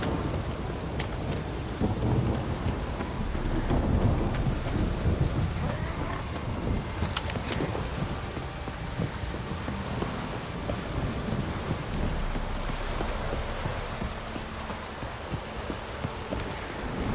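Steady rain pours down with a deep rumble of thunder building early on, a stormy in-game downpour from The Witcher 3: Wild Hunt, continuous and fairly loud throughout with no voices.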